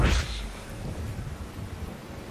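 Thunder rumbles and rain pours in the video game SOMA, a loud low burst at the start fading into a steady wash of rainfall and rumble with no talking.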